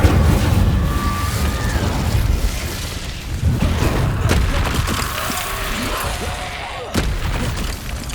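Incendio fire spell cast in the Hogwarts Legacy video game, a sustained roaring, crackling blast with bursts and booms over continuous battle noise, a sharp hit near the end.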